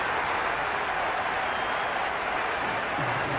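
Steady applause and crowd noise from a cricket stadium in Cricket 26, India versus South Africa in a one-day international, a dense continuous roar of clapping that holds level throughout with no break.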